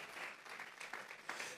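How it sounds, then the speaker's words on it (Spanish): A church congregation at a Sunday service gives a brief round of applause, a dense wash of many hands clapping at moderate volume with a few louder claps standing out. "vamos a regalarle ofrenda de palmas al Dios de la gloria"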